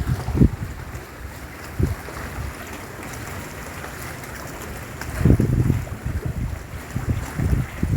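Wind and rough sea slap around a barge in heavy rain off Claxton Bay, with broad steady rushing noise and several louder thumping wave impacts near the microphone.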